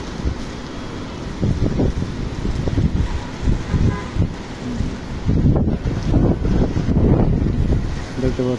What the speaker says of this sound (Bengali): বাইরে প্রচুর পরিমাণ বাতাস